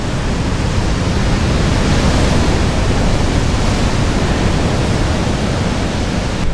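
Waves roll onto the black volcanic sand of Reynisfjara beach in Iceland, a loud, continuous broadband roar of surf that fills the air for several seconds without letup and with no voices.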